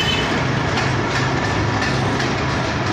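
The Mohenjo-daro Express pulling out of Rohri station, a loud continuous rumble of rolling stock with faint rhythmic clacks of wheels over rail joints, heard up close and alone.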